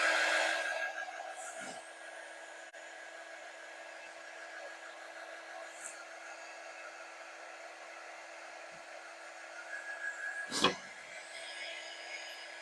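A hair dryer blows steadily and loudly to dry a black-on-white painting, a continuous whooshing drone with a few faint knocks and handling noises.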